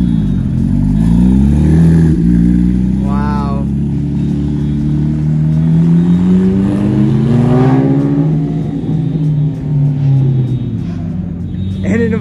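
Lamborghini Huracan and Porsche 911 GT3 RS engines rev loudly as the two cars pass close by in succession at Monterey Car Week, deep rising and falling exhaust notes layered with engine rumble.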